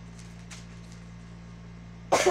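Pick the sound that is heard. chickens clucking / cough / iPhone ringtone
cough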